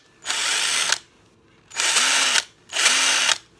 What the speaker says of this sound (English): let's rev it up so you can see the sparks